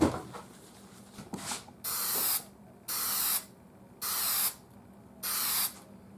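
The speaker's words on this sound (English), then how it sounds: "This is just stickum, you know, spray stickum glue," Contact cement spray glue hisses from an aerosol can in four steady bursts of about a second each, separated by short pauses, close and fairly loud, with a brief shorter spurt just before them.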